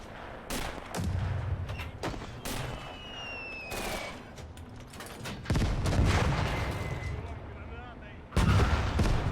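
Tank cannon fire in the Gates of Hell game during a 1941 German invasion of the Soviet Union, with several loud booming shots amid gunfire and battle noise, a heavy blast near the end, and someone talking over it.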